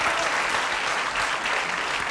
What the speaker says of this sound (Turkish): siz de alkışlıyorsunuz